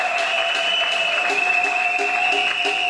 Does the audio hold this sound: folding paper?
no